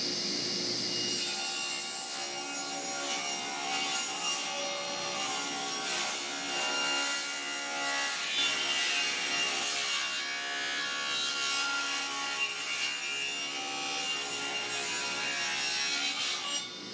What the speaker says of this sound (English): So what I'm going to do is set my fence here with 3 inches, and I'm just going to rip them in half.